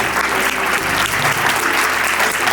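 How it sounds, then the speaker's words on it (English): Sustained applause from an audience at a Pennsylvania Federation of Democratic Women event honoring award recipients, dense and steady clapping throughout with a faint crowd murmur. "Let's have another round of applause for all of our wonderful honorees."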